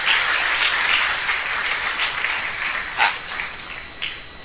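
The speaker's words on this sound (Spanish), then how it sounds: "Le damos un aplauso al Señor en esta hora bendita" A church congregation applauds together, a dense, even wash of many hands clapping that fills the room and gradually tapers off.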